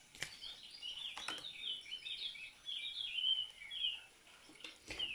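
Birds sing steadily beside a flowing stream, with a continuous chatter of high chirps and trills over a soft background wash of running water and a few louder clicks nearby.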